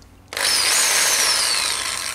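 A Bosch GSB 1600 RE power drill whirs up suddenly after a brief quiet moment, its chuck spinning at a steady, loud high pitch, close by.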